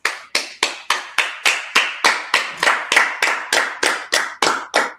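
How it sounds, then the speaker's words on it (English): Clapping at a Purim feast gathering: a steady, rhythmic series of about sixteen loud, evenly spaced claps, close and distinct, with no voices. "so let's clap it up again"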